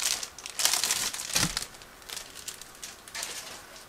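Plastic sprues and bags from a Miniart 1/35 BMR-I Late with KMT-7 model kit crinkle and rustle in close, irregular bursts, with no talking over them.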